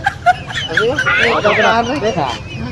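A fighting rooster clucks and squawks up close in a public place, a rapid stretch of agitated calls with people talking over it.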